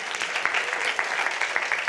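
A small audience at a talk claps, producing a soft, brief, even patter that sounds somewhat distant and quiet.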